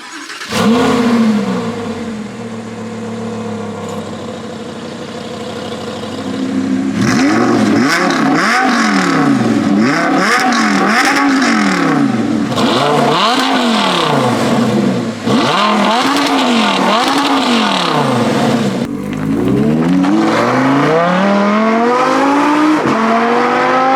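An Audi R8 V10 engine with a Capristo exhaust, valves open, revs hard again and again, loud and close, with rising and falling sweeps and crackling exhaust between bursts.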